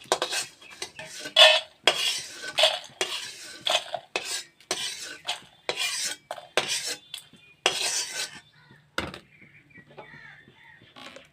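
Metal utensils clatter and scrape against a pan as fried lentil dumplings are lifted out, a steady run of sharp, close clinks and knocks with brief pauses, ending quieter.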